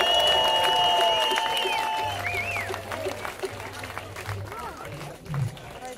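Audience applause at a live salsa concert in Curaçao, a crowd clapping steadily while a voice speaks over it at the start and brief tones and vocal sounds drift in and out.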